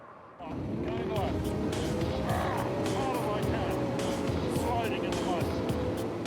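Centurion tank with a crash gearbox driving: a loud, continuous engine roar starts abruptly and holds steady, with whining mechanical tones rising and falling beneath it, while someone talks over the noise.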